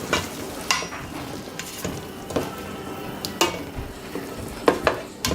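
A spoon stirs tomato sauce into a pot of Puerto Rican salchichon soup, giving irregular scraping knocks against the pot over a soft, continuous simmering sizzle, close up and with no talking.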